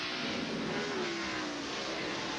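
Loud engine roar from a 1991 NASCAR Winston Cup stock car accelerating on the track, pitch sliding steadily upward over a couple of seconds. A dense, continuous mechanical drone under broadband noise, with no talk.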